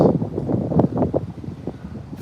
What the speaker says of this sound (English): Sorry, it's windy right now.